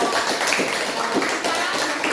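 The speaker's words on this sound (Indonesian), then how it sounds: "mari kita tepuk tangan untuk kelompok 3" A classroom group claps for a student presentation team, a brief dense patter of hands that runs continuously and fairly loud, with no clear gaps.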